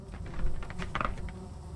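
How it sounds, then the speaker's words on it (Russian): Flies buzzing in a video game, a faint, fluttering insect drone with brief louder passes, heard alone without talk. "я слышу мух"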